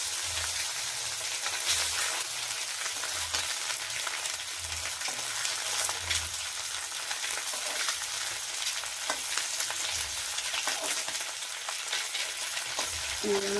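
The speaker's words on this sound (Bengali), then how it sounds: "এরকম লাল লাল করে অল্প একটু ভেজে নিতে হবে।" Boiled eggs fry in a pan, turned until reddish-brown, giving a steady crackling sizzle with occasional spits and pops and soft stirring scrapes, close and continuous, with no talking.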